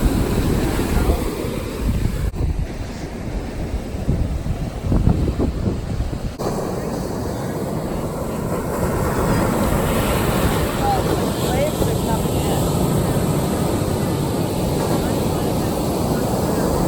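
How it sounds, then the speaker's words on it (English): Heavy surf rolling onto a South Florida beach after Hurricane Dorian, a continuous roar of waves mixed with gusting wind buffeting the microphone, steady and loud throughout. "Wow, looks like the waves are way up here."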